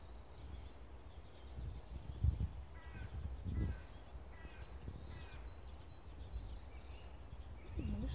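A busy spring chorus of small birds calls and chirps around feeders, with several high, rapid twittering phrases over a low rumbling background and a few louder nearby thumps.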